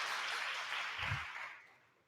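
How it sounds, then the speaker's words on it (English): A small audience at a live discussion claps for a table, a brief soft burst of applause that fades out within about two seconds. "So let's give table a round of applause."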